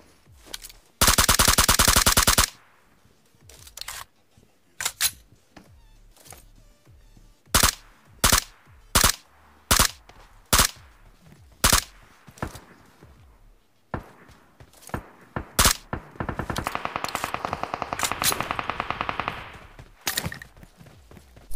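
Gunfire in the battle royale game BGMI / PUBG: a sustained automatic burst, then a string of loud single shots at steady intervals, and later a long rattling volley, all close and without speech.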